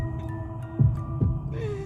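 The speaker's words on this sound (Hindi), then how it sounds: "रीना का दिल जोर से धड़कने लगा" Heartbeat sound effect in a Hindi audio horror story, two loud low thumps pulsing over a steady hum, with no voices.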